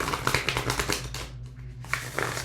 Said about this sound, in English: This deck shuffles so good.